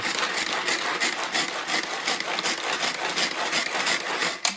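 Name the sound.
handheld manual food processor mincing garlic cloves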